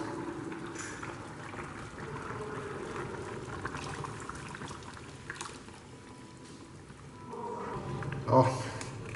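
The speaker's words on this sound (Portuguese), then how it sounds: "Agora nós vamos pôr a essência do peixe aqui" Liquid fish essence poured into a fish broth cooking in a pot, a soft steady pour over a bubbling simmer, with a person speaking throughout.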